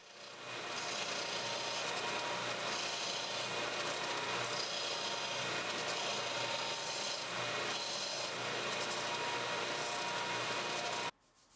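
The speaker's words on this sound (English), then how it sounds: "I used the oscillating belt sander to flush up everything, but I was very careful not to remove too much material." An oscillating belt sander runs against the halves of an exotic wood ring box, giving a steady loud abrasive rasp that holds for about ten seconds before cutting off abruptly.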